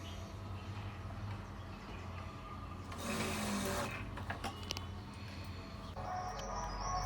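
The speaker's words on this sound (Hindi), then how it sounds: "मैं पहले ब्लाउज़ को सीधा करके सिलाई लगा रही हूँ।" A sewing machine stitches a blouse, its faint steady mechanical whir running along quietly with a louder burst of stitching partway through and small clicks, no talking.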